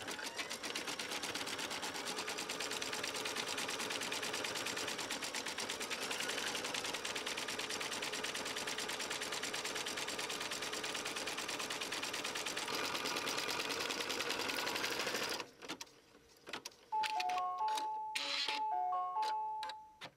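An embroidery sewing machine satin stitches an amber applique on a quilt block, its dense steady whirring running loud and continuous for about fifteen seconds before breaking into short pauses and a few beeps near the end.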